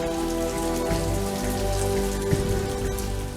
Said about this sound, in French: Il se met à pleuvoir des cordes à ce moment-là.